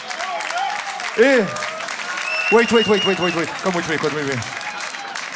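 Crowd applause at a La Cup Worldwide 2018 beatbox battle, a sustained wash of clapping under loud voices shouting and speaking over it.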